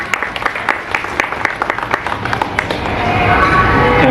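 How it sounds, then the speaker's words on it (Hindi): Audience applause at an Independence Day function, a scattering of sharp individual claps that swells into dense, steady clapping from a crowd toward the end. "जोरदार ताली बजा दीजिए उनके लिए"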